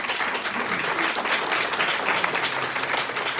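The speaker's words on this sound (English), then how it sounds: "give him a round of applause for doing it" A sales and marketing meeting audience gives a sustained, even round of applause, a dense wash of many hands clapping throughout.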